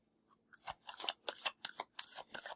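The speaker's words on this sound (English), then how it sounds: "New cards are sometimes hard to shuffle because they're so new." New, stiff oracle cards being shuffled by hand, a run of crisp riffling bursts in a steady rhythm, close and fairly quiet with no talking.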